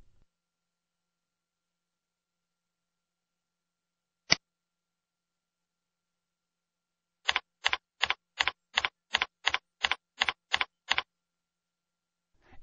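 A single key tap, then a quick run of about ten evenly spaced keystrokes on a computer keyboard while typing a new root password, crisp, close and alone in a quiet room.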